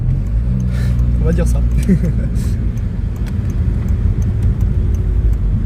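Stage 2 tuned Volkswagen Passat with over 300,000 km pulling hard under heavy throttle, a steady loud engine rumble filling the cabin while occupants talk over it.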